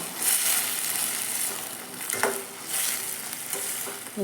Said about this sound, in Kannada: ಈಗ ಅದಕ್ಕೆ ರೀ ಹಾಕಿ ಚೆನ್ನಾಗಿ ಫ್ರೈ ಹಾಕೋಣ